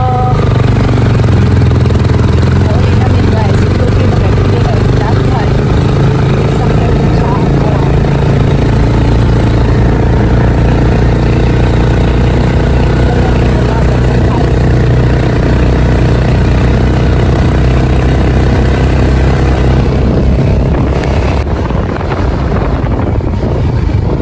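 A motorcycle engine runs steadily throughout, a loud close droning rumble with wind buffeting the microphone and a shift in tone near the end.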